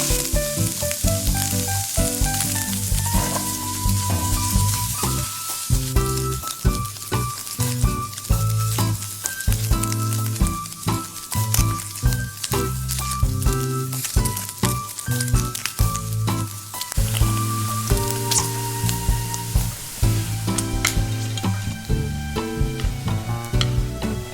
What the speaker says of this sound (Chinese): 接着用中火将焯好的五花肉进行煎炒